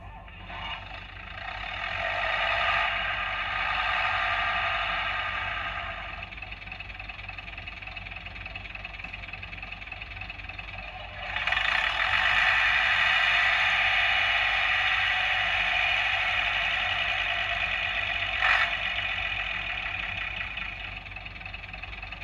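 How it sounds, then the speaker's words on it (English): A Bachmann Class 101 model diesel multiple unit sound system starts its engines, a steady mid-pitched idling drone that rises, settles, then swells louder again partway through as the second engine joins, running continuously without talk. "Now that's the engines all started up."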